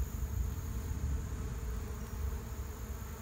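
Dense, steady buzzing of an absconding honey bee swarm all around, loud and continuous with no voices.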